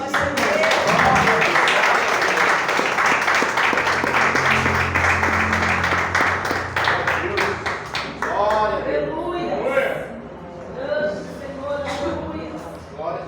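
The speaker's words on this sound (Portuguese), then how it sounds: "As palmas do Senhor." A congregation at a worship service gives sustained clapping for the first eight seconds or so. It then thins out to scattered claps as voices take over.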